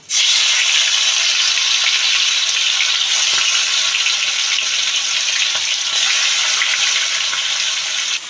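Chicken pieces fry loudly in hot oil with whole garam masala and bay leaf, giving a dense, continuous close-up sizzle that stays even throughout.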